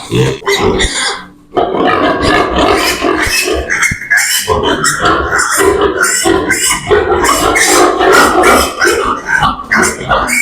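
Piglets being weighed on a farm squeal and grunt loudly and almost nonstop, close up, with shrill bursts overlapping throughout and little pause between cries.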